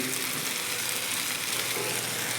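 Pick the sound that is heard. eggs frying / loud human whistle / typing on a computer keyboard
eggs frying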